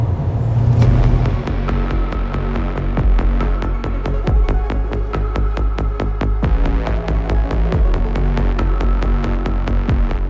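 A steady, throbbing engine drone fills an enclosed space, loud and close, with a regular pulsing rhythm and low rumble throughout.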